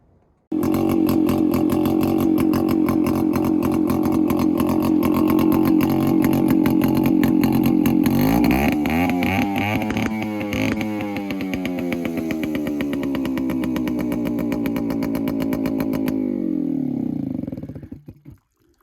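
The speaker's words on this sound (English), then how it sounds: "you would have seen the exhaust exhausting out there, and that's why it sounds so bloody loud" A boat engine runs loudly through its exhaust, a steady, close, buzzing drone. Midway the pitch rises and wavers as the revs change, then it settles and cuts off near the end. No talking is heard.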